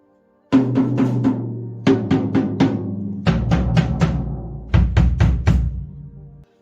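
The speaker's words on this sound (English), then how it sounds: "Does your drum set sound like this?" A drum kit with worn drum heads played in short bursts of toms and snare hits, each strike ringing with a loose, boomy tone that decays between fills.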